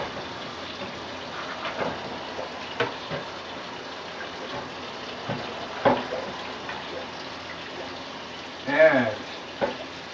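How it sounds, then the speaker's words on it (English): A knife blade is rinsed in bleach water while cooking a pot roast, giving a steady wash of running, splashing water with a few louder sloshes and one brief gurgling splash near the end. "Now I can wash my blade off a bit here with the bleach water."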